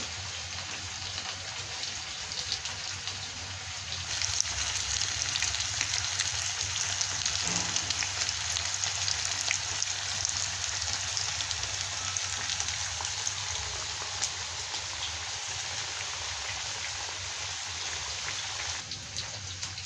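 Potato fries frying in hot oil give off a steady, dense sizzling hiss that holds at an even level throughout, close by and with no voices.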